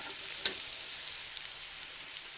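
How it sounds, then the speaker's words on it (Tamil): Chopped onions sauté in a pan for a chilli idli dish, giving a steady, close sizzle and crackle that stays even throughout, with a couple of sharp pops and no talking. "பாருங்கள், வெங்காயம் நல்லாவே வதங்கிட்டுருக்கு."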